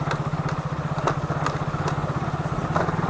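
Close, steady, pulsing putter of an old-model Hero Glamour motorcycle held in low first or second gear on a mossy, rocky mountain track near Chatakpur, with occasional clatter and knocks over the rough ground.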